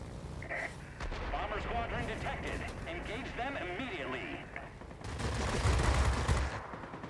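Machine-gun fire from a heavy fighter plane in World of Warplanes, heard as sustained rapid bursts over a loud engine drone, with a heavier burst near the end and a voice talking throughout.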